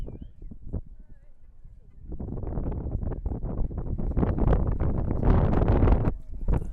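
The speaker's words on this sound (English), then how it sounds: "Wind's really kicking up here. Getting a strong gust." Strong wind gusts buffet the microphone on a football field during a U15 youth match, a low rumbling roar that swells after a quieter start and stays heavy to the end.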